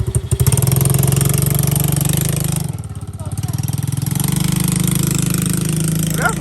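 A 125cc ATV engine chugs close and loud with a rapid pulsing beat, dipping as the throttle eases off around the middle before climbing back to a steady running drone; voices talk faintly over it.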